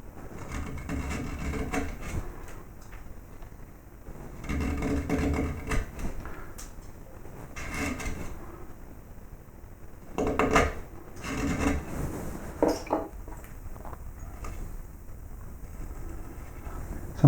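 Carving knife slicing a wooden baseball cap strap, cutting back to the fabric edge: soft scraping and rubbing strokes in irregular bursts, close and fairly quiet, with no voices.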